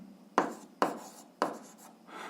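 Pen on paper writing out an algebra solution: three sharp strokes scratch close by at a steady pace, followed by a softer continuous scribble.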